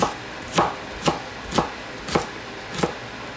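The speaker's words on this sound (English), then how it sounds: "I just like to chop up the ends real fast." Knife chopping the ends of peppers and onions on a cutting board for a BBQ pizza, six sharp, evenly spaced chops close up with no talking.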